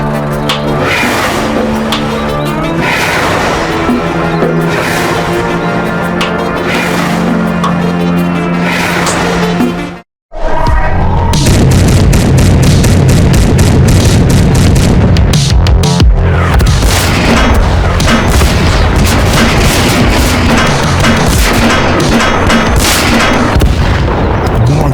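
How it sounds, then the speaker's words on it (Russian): An animated tank cartoon's artillery barrage, with loud repeated booming explosions and blasts in rapid succession, a brief silent gap midway, then an even denser, heavier stretch of detonations. "В этот раз наша атака начнется после мощной артподготовки."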